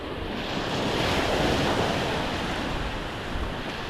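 Sea waves roar continuously against the shore during Typhoon Pepito, a dense, steady crash of surf mixed with strong wind buffeting the microphone, with no voices.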